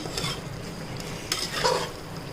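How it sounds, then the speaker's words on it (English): Mutton frying with grated coconut in a pan, a steady close sizzle broken by a few scraping stir strokes and faint utensil clinks. "And now you have to let it fry nicely"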